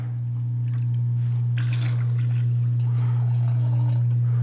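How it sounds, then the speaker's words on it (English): A pump fills a CNC machine's coolant reservoir through a tube, a loud steady low hum with liquid pouring and splashing over it, the gurgling growing busier as the tank fills. "So this is the pump at max efficiency with this size of tube."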